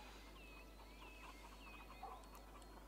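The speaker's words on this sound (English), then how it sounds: "I heard chickens." Chickens clucking in the city-building game Cities: Skylines, a few faint, short clucks over a low steady background hum.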